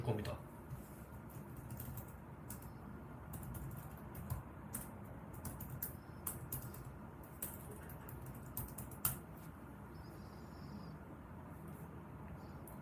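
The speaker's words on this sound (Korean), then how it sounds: "터미널에 파이썬 띄고 manage.py 띄고 run server라는 명령어를 쳐줄 겁니다." Keys tapped on a computer keyboard as a terminal command to run a Python Django development server is entered, sharp scattered clicks in quick irregular bursts, fairly close, over a steady low background hum.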